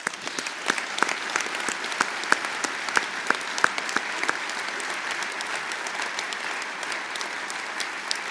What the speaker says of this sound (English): I think they deserve our applause today